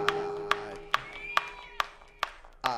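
Sparse, evenly spaced claps from a small audience at a 2004 live music performance, about six sharp hand claps in a slow rhythm over a sustained musical tone.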